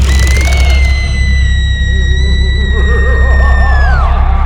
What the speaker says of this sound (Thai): ในตอนนั้นเอง ที่เขาได้ยินเสียงกรีดร้อง มันเป็นเสียงแหลมสูง กรีดลึกเข้าไปในโสตประสาท